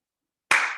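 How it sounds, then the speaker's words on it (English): A single sharp hand clap during yoga practice, close and crisp, ringing out briefly after silence. "I'm definitely taking the time to do a good clap"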